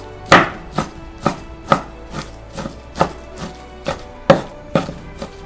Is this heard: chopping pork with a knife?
yes